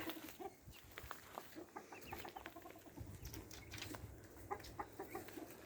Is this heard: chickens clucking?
yes